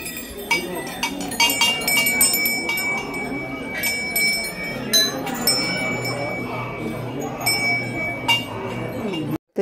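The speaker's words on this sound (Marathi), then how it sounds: "इथं मंदिरात सर्वत्र घंट्या बांधलेल्या आहे बघा" Many small votive bells hung throughout a Ganpati temple clink and ring in scattered, overlapping strikes over a steady background murmur.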